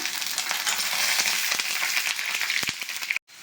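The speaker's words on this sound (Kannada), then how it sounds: "ಕಡಲೆಕಾಯಿ ಬಿದ್ದೆ ಸ್ವಲ್ಪ ಫ್ರೈ ಆಗ್ತಿದ್ದಂಗೆ ಒಂದು ಸ್ಪೂನ್ ಕಡಲೆಬೇಳೆ ಸೇರಿಸ್ಕೊಂಡೋಣ" Peanuts, chana dal and urad dal fry in hot oil for mango rice, giving a loud, steady sizzle with crackles and a few sharp stirring clinks, then a sudden brief drop near the end.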